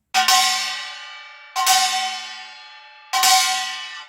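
Three loud, bright metallic strikes on a kkwaenggwari, a small Korean gong, at an even pace, each with a quick double-hit attack and a long ringing decay before the next.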